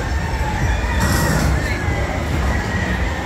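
A rooster crows amid the constant din of a crowded indoor gamefowl expo hall in Manila, the call fairly loud but woven into dense crowd chatter and background noise.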